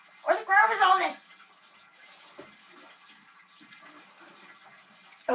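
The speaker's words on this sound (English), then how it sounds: "if you're wondering what that noise is, it's a turtle tank." A turtle tank water filter runs with a faint, steady watery hiss in the background, while someone speaks briefly over it at the start.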